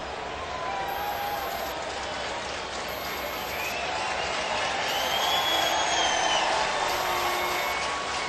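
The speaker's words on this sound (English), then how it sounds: "you can hear that crowd getting pretty excited" A baseball crowd at a Cardinals vs Cubs game roars and cheers from a distance, a broad, continuous swell of noise that builds slightly toward the end.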